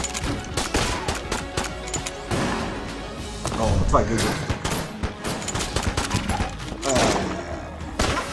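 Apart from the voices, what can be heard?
gunfire from snipers in a video game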